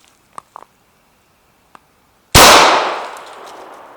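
A single loud, sharp gunshot cracks out at an old milk or orange juice jug target, its echo decaying over the next second, after a few faint small clicks.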